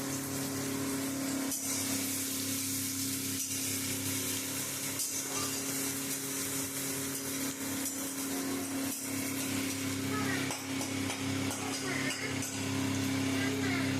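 Sliced onions frying in oil in a pan for mutton kosha, a steady, bright sizzle that runs the whole time with occasional stirring knocks and a low hum beneath.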